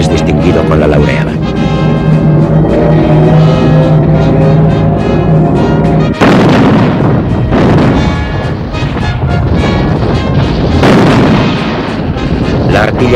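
Loud, heavy artillery fire, including German 8.8 guns, from the Battle of Jarama in February 1937 during the Spanish Civil War; repeated booming blasts and rumbling explosions that fill the whole stretch.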